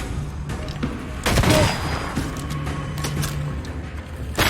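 Enemy gunfire in the video game Banishers: Ghosts of New Eden, a loud burst of shots around the middle over low game ambience, with scattered smaller cracks after it.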